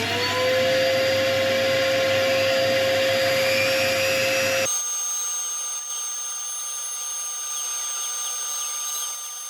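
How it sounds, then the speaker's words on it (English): A Dremel rotary tool cuts through brass with a steady, high-pitched whine. It is loud and dense at first, then drops to a thinner, quieter whir that carries on to the end. "So I'm just going to get my Dremel tool out and cut this off."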